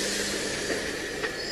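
AC electric multiple unit train rolling slowly toward another unit for coupling, a steady close hiss and rumble with faint clicks, continuous and without talk.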